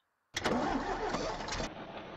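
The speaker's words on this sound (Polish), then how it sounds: "No i już mamy silnik uruchamiany." A Jelcz 272 MEX bus engine in the OMSI bus simulator cranks abruptly to life out of near silence, then settles into a steady, rumbling run close by.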